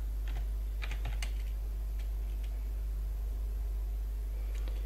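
Rapid clicking keystrokes on a computer keyboard, scattered irregularly over a steady low electrical hum, close and fairly quiet while C# code is being written.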